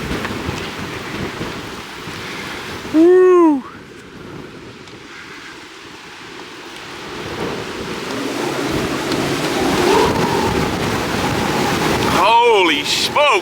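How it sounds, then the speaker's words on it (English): Strong wind howls and gusts around a boat at sea, loud and continuous with rushing surf, rising in force toward the end, while a person whoops with rising-and-falling cries. "Wait till you hear the wind out here."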